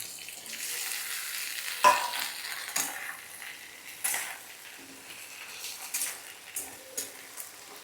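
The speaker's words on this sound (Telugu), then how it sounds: "శుభ్రంగా అప్పుడే కట్ చేసి పెట్టుకున్నటువంటి బెండకాయ ముక్కలు కూడా వేసేసుకుంటున్నానండి" Freshly cut okra pieces frying in a pan, a soft steady sizzle punctuated by several scraping stirs and light clinks of a spatula against the pan, no voices.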